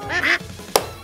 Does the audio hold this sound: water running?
no